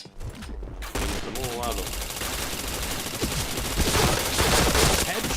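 Rapid automatic gunfire in the Point Blank shooter game, dense bursts of shots nearly continuous throughout, with a player speaking briefly over the firing.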